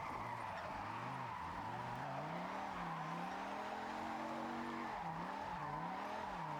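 A Ford Ranger pickup drifting sideways without the handbrake, its tires squealing loudly and continuously with a wavering, rising and falling pitch over steady engine roar.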